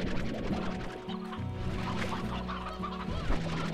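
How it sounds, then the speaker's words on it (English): Hens in the Slime Rancher video game cluck in a busy, overlapping chorus of short pulses. The clucking is steady and fairly loud, with no talk over it. "Because we got chickens everywhere."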